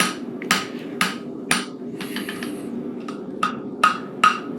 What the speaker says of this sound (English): You can see as I hit it with my hammer how it's getting straighter